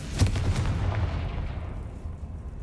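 A Confringo explosion spell goes off in the video game Hogwarts Legacy, a single heavy boom with a crackling burst that fades into a rumbling tail.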